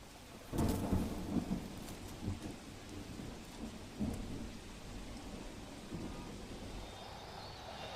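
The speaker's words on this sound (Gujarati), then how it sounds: "રાજકોટ શહેરની અંદર આજ સવારથી જ વરસાદી માહોલ છે" Steady rain hisses throughout in Rajkot, India, with rumbles of thunder rolling in several times, a strong one early and softer ones later.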